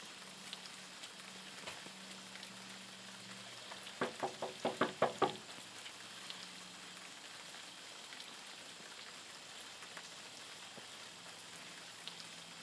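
Steady rain patters in the background, with a brief cluster of sharp knocks partway through before the soft, continuous rainfall resumes.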